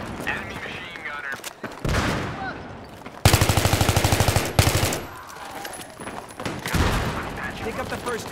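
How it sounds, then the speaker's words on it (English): Machine gun fire in Battlefield 3, loud rapid bursts of automatic rounds with one long sustained volley in the middle, mixed with other battle noise and brief voice chatter. "Enemy machine gunner."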